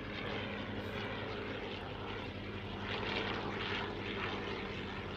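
An original 1917-style Fokker Dr.I triplane with a rotary engine flies at the Hahnweide airshow, its propeller engine droning steadily and fairly loud throughout, with no talk.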